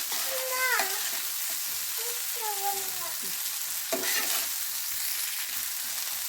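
Leftover idli tossed with masala sizzles in a pan, a steady close frying hiss with stirring scrapes, while a voice chirps briefly in the background.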